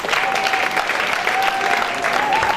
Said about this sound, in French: Veuillez vous asseoir et applaudissez pour lui